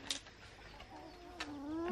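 A lone chicken in a shed on a Tanzanian farm gives a few soft, close clucks and a drawn-out rising call, with quiet pauses between sounds and no talk.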